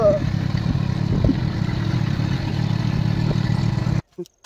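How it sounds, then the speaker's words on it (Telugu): A motorcycle engine drones steadily at close range while riding through a village toward tobacco fields, with low rumble and wind buffeting, then cuts off abruptly near the end. "ఇప్పుడు మా తాత బైక్ లో వెళ్తున్నాం తోటకి."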